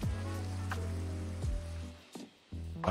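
Rain falling in a video game, heard as a steady broadband patter layered over low sustained in-game tones, continuous and moderately loud before dropping out briefly near the end and resuming.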